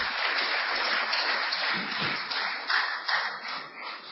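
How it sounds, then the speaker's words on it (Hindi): Sustained, even applause from an audience welcoming Rajiv Dixit onto the stage at a lecture event, a dense steady clatter of many hands that holds at the same level throughout. "पुरजोर तालियों के साथ उनका आप स्वागत करें"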